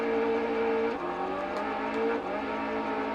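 A car in the PS2 game Action Man A.T.O.M. drives with a constant loud buzzing engine drone, its pitch dipping briefly twice as the car slips, with no voices.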